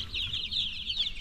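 Young chicks in a farm brooder clucking and peeping in a steady, busy chorus of high chirps, close and continuous with no talk over it.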